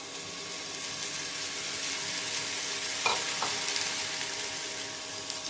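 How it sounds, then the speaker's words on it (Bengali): Chopped onion sizzles steadily in hot oil in a pan as the base for a spicy home-style mutton curry, with a couple of brief scraping stirs partway through. "ভালো করে নাড়াচাড়া করে আমি এবার এটাকে কষিয়ে নেব"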